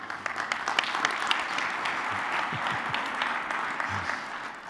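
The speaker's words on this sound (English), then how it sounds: "A round of applause for Sam." Audience applause for a presenter at a control room industry summit, a steady, dense wash of clapping from a full hall, sustained at even loudness for several seconds.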